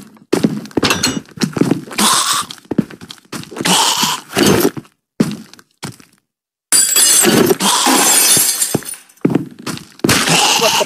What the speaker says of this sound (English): You know breaking glass makes noises,